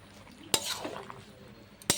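A spoon scrapes and clinks against a pan while a prawn and jackfruit curry is stirred, two sharp knocks standing out amid soft, wet stirring sounds, with no voices.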